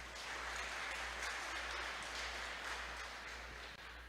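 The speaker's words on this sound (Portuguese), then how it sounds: "Vamos aplaudir ao Senhor por isso" A church congregation claps together in an even, continuous wash of applause, heard faintly at a distance over a low steady hum.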